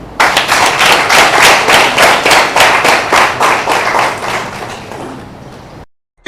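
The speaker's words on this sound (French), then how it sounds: "Je vous demande de l'applaudir" Loud, sustained audience applause at an awards ceremony, the ninth Trophées ANA, dense clapping filling the room for about five and a half seconds before cutting off abruptly.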